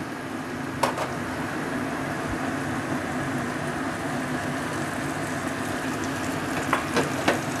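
A spice paste of tomato, red chili powder, turmeric, salt and a splash of water fries in oil over a low to medium flame, giving a steady close sizzle with a few sharp clicks of stirring.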